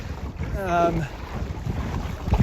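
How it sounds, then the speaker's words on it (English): Wind rushing past while sailing a Zenith sailboat in about 7 knots of breeze, a steady close buffeting on the microphone with water movement underneath and a brief vocal sound near the start. "there's about 7 knots of wind at the moment"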